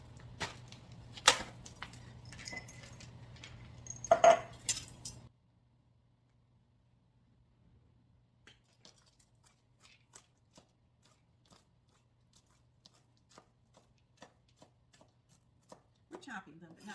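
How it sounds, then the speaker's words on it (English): Pecans chopped on a cutting board for gluten-free cookies, a quick run of sharp knife taps for several seconds, then near silence with sparse faint clicks. "Chopping them, but not too finely."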